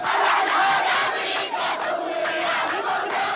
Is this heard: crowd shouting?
yes